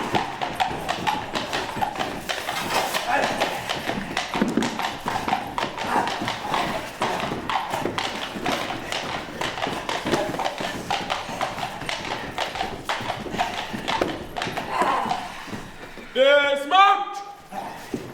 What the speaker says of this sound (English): it was a large band of horsemen riding towards him